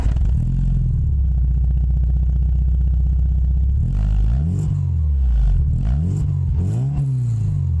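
A Peugeot 306 S16 four-cylinder engine idles with a steady low rumble, then revs up several times in quick, rising bursts, loud and close.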